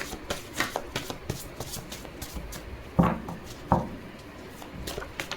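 Tarot cards are shuffled by hand, with soft papery slaps and riffles in a loose rhythm and two heavier thumps partway through, close and moderately quiet, with no talking.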